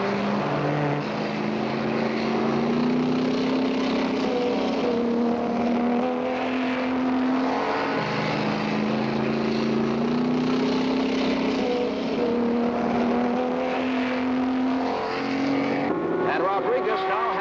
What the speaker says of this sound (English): Pedro Rodriguez in number 10, a Ferrari, has the lead over Hap Sharp.